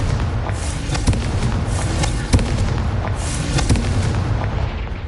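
A fire-blast spell in Hogwarts Legacy crackles and booms as a loud, dense burst of explosive noise, with sharp pops spaced through the roar and no talking.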